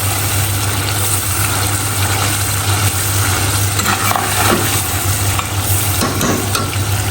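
Food fries in hot ghee in a pan with a loud, steady sizzle that never lets up, and a low, constant hum runs underneath it.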